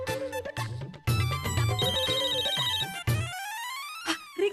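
A phone ringing with a melodic ringtone, bright repeating musical tones played in a few bursts with short gaps, close and clear, no voices over it.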